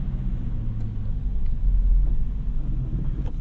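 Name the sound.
BMW car engine running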